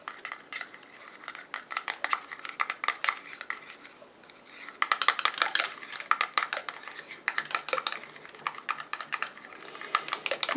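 Homemade niacinamide and green tea face cream being stirred in a container, giving rapid, irregular light clicking and tapping strokes that continue close and fairly quiet throughout.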